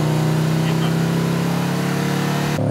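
A sports car's loud, steady engine drone with a low hum, holding its pitch for a few seconds before a sudden change near the end.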